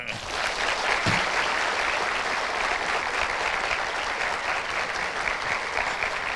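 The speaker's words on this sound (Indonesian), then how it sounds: "Berikan tepuk tangan yang meriah untuk Angga Fauzan" Lively audience applause welcoming a guest at a campus talk show, a loud, continuous roar of many hands clapping for several seconds without talk over it.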